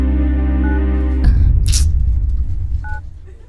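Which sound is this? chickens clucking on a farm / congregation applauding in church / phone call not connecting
phone call not connecting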